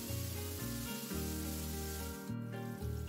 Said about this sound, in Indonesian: Nah, sekarang kita goreng ayamnya ini sampai matang dan warnanya itu agak kekuning kecoklatan ya.